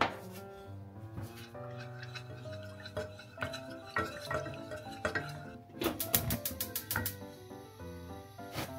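Powdered agar and water are stirred in a pot, giving a quick run of close scraping, clinking and liquid swishes, with a burst of rapid taps near the end.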